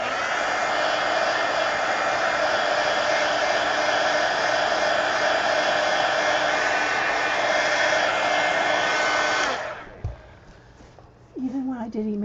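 A hair dryer blows loudly and steadily while drying a page of a mixed media altered book, then cuts off, leaving quiet handling sounds and a brief voice.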